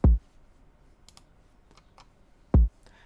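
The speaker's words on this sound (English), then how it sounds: "Not like a hip-hop kick, more of a synth kick." Two punchy electronic kick drum hits, roughly two and a half seconds apart, each short and thumping, with near silence between them.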